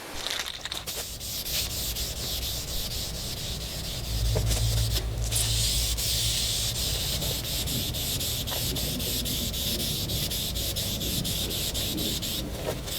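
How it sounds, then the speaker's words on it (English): Hand sanding primer on a Mercury Optimax outboard cowling: a steady, close, gritty rubbing that continues for over ten seconds with little variation in loudness, with a low hum joining partway through. "One last final sanding."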